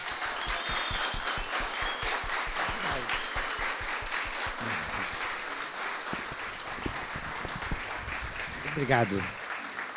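Audience applauding a geologist at the close of a live talk session, steady clapping throughout with a brief spoken thanks over it.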